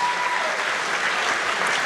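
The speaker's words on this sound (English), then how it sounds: "Let's clap for Martin Luther King." Steady applause from a high school graduation audience, dense and sustained for about two seconds, clapping in honor of Martin Luther King.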